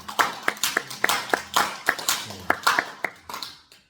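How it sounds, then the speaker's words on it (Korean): A few people in a church gathering clap in short, uneven bursts, a small scattered round of applause with voices mixed in. "박수 한번 주세요."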